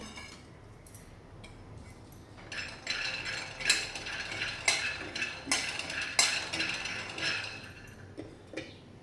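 A handful of peanuts dry-roasting in a hot kadhai, stirred so they rattle and scrape against the metal in quick, irregular bursts of clinking, fairly close and moderately loud.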